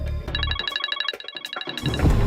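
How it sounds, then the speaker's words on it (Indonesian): A phone rings with an incoming call, a rapid electronic trill repeating in two bursts, fairly close and clear with no talk over it. "Mertua aku telepon, bentar dulu ya."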